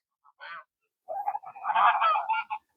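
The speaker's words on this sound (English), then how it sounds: "the geese are on the move" Geese honk at a frozen pond: one short call, then a burst of several overlapping, harsh honks close by and fairly faint, alone with no talking.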